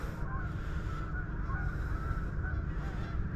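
Geese honking in a steady, busy chorus over constant low rumbling background noise, several birds calling together at moderate distance.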